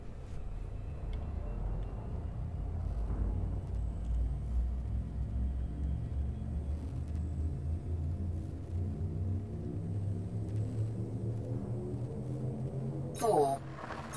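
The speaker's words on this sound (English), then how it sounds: "Engage jump drive." A spaceship's jump drive engaging, a low steady rumble with a slowly rising drone that builds over many seconds before a brief sharp sweep near the end, with a voice speaking over it.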